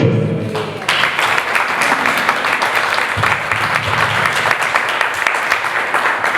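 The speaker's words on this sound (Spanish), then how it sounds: "Un fuerte aplauso." Loud, dense applause from an audience at a Spanish diabetes gastronomy conference, a steady wash of many hands clapping that holds evenly for several seconds with no voices on top.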